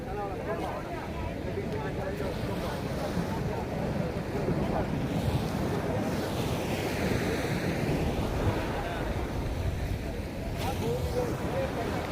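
Sea waves washing ashore at Dhanushkodi, with a continuous surging roar of surf mixed with strong wind buffeting the mic; one rushing swell builds in the middle.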